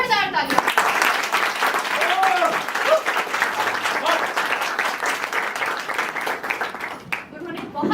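An audience applauds the writer of a Hindi comedy play in Mumbai, a loud, sustained burst of clapping that carries on for several seconds and tapers briefly near the end.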